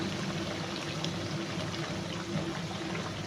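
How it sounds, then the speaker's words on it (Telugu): Hot water poured lightly into a simmering egg curry, a faint continuous liquid trickle over low kitchen background hiss, with no talking. "ఇప్పుడు లైట్గా వాటర్ వేస్తున్నాం హాట్ వాటర్ వేస్తున్నాను"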